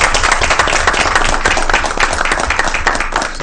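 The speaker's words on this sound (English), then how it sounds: "I'd like to give them a round of applause" Loud, dense applause from a school board meeting audience, steady clapping filling the room for several seconds without a break.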